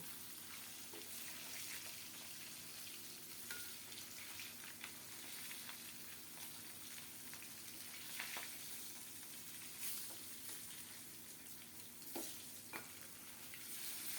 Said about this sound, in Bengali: এপিট ওপিট করে একটু ভেজে নেব মনে হচ্ছে একটু তেল বের হয়েছে